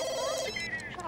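Telephone ringing in the video game The Sims 2, a short electronic ring tone with bright steady tones, heard alone for about a second.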